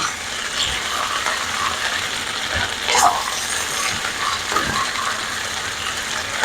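Onions sizzling in a pot for a beef stew while a spoon stirs them, a constant crackling fry with a few louder scrapes and clinks against the pot, close and fairly busy.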